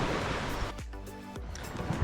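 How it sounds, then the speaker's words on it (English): Gentle, smooth ocean surf washes steadily onto Ao Yon Beach at Cape Panwa, Phuket, a broad continuous roar with soft swells and wind buffeting the microphone, with no voices. "But the waves are nice and smooth. It's not rough."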